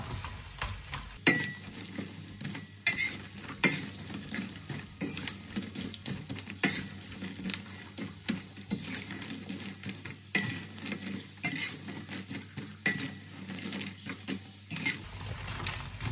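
Chicharon pork rinds frying in very hot oil give a steady, busy sizzle with dense crackling and popping that runs for the whole stretch, close and fairly loud, with no voices over it.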